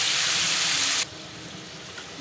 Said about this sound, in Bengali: ঝোলটা ফুটে উঠতেছে